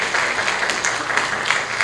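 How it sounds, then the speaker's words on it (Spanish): Steady, dense applause fills a seminar hall on criminal procedural law, many hands clapping continuously at close range with no break, as a departing guest is sent off. "Vamos a despedirla también con un fuerte voto de aplausos"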